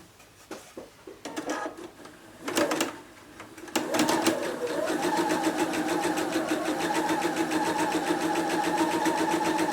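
A sewing machine stitches curved quilt pieces sewn right sides together. A few soft handling bumps come first, then a steady, fast, even run of stitching that continues to the end.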